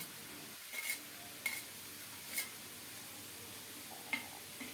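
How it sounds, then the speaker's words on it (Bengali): Rui fish head frying with spices in a pan alongside potatoes, heard as a faint steady sizzle broken by four brief scraping stirs spaced a second or so apart, quiet and close, with no voices. "রুই মাছের মাথা দিয়ে আরও কিছুক্ষণ কষিয়ে নেব"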